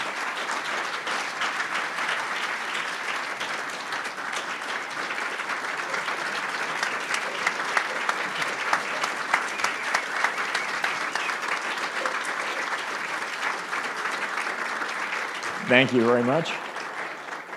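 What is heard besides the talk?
audience applause at a conference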